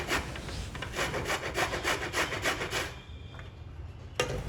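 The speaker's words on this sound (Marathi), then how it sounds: "आता मी ही गाजरे चांगली बारीक किसणीने किसून घेणार आहे." Carrots for halwa being grated on a fine grater, a fast series of rhythmic rasping strokes, close and clear, then stopping before one last scrape.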